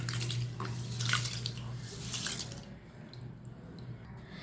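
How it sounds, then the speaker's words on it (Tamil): Water sloshes and swishes steadily as finger millet (ragi) is rinsed by hand, a continuous wet churning that eases off toward the end. "நல்லா ஒரு நாலு தண்ணி அஞ்சு தண்ணி ஊற்றி நல்லா கழுவிடுங்க"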